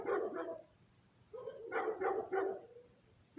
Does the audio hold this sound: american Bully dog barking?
yes